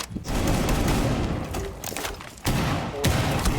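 Rapid hip-fired gunfire in the video game Rainbow Six Siege, dense bursts of shots filling the clip with brief gaps, loud and close.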